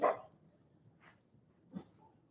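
A dog whimpers and yips softly during rollover trick training, one sharp yelp followed by two fainter whines spaced across a quiet moment.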